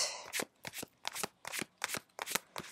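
Tarot cards being shuffled close up make eight quick riffling bursts in a steady rhythm, each a crisp papery flutter, with no voice.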